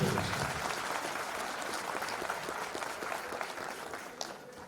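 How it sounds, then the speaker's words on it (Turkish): A crowd at a fundraising gathering in Bursa, held for a baby with SMA, applauds a child, a dense and continuous round of many hands clapping that stays steady and fairly loud throughout. "Bu çocuğa bir alkış bence az"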